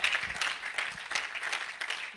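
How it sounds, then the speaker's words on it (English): A church congregation claps together during a worship service, a lively burst of hand claps with audible individual strikes in a loose rhythm, continuing steadily for a couple of seconds. "Clap it like you mean it."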